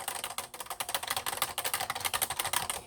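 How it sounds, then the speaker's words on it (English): Rapid, steady clicking of long fingernails typing on a computer keyboard, close up, with no talking. "I will put the plastic keyboard cover over it, and it keeps it from clickety-clacketing"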